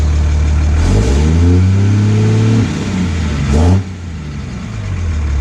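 A truck engine fitted with a new turbo revs up twice, rising in pitch with each press of the gas, then settles back toward a steady idle; loud and close, no talking.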